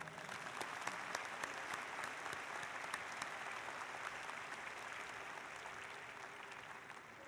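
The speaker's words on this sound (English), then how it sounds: "Another round of applause for Dr." A graduate commencement audience applauds a speaker, a broad, even wash of clapping with a few sharper individual claps standing out, sustained without a break.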